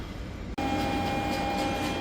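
Train at a railway platform on the Dunkirk to Paris route, a steady broadband rumble and hiss with a sustained tonal whine, starting abruptly after a brief dip and continuing loud and close throughout.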